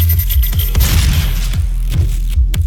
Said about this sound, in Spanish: La pistola tiene el disparo ese secundario.